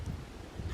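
Wind blows outdoors in a French mountain village, a steady low gusty rumble buffeting the microphone with faint rustling on top, no speech.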